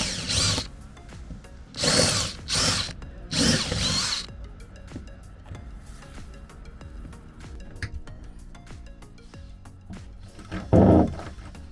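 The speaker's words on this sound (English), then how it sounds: "So I've re-drilled the holes, basically slightly bigger than they were" A power drill re-drills slightly larger holes in a deck organiser, running in several loud bursts of whining spin separated by pauses, with softer clatter between and a final short burst at the end.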